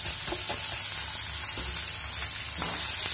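Cluster beans (gawar phali) frying in oil, a dense, steady close-up sizzle with occasional stirring scrapes and soft thuds, no talking.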